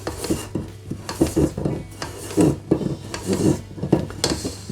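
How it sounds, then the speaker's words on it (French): A spatula works through coconut pineapple log cake batter in a bowl, giving repeated close scraping and soft knocking strokes against the bowl in an uneven rhythm, with no speech. "puis je mélange à la spatule. En allant bien au fond"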